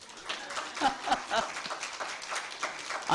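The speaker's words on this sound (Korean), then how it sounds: "여러분 박수 쳐줄 일이잖아요" A church congregation claps during a Christmas service sermon, a moderate, uneven patter of many hands heard from a distance, steady for a few seconds without talk.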